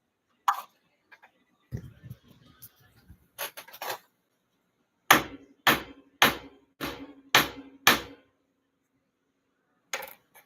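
Metal struck with a hammer during jewelry smithing: a run of six sharp, evenly spaced ringing blows near the mic, with a few lighter taps and clinks earlier and two more strikes at the end.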